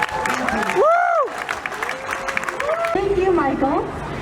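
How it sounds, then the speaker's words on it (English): A crowd at an Asian-American political rally applauds and cheers, with the clapping heard under and between a speaker's voice. "So give yourselves a round of applause."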